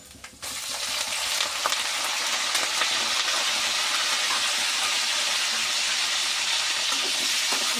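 Curry leaves drop into hot oil for a gongura chutney tempering, and a sudden loud sizzle bursts up and holds as a dense, continuous crackle close to the pan.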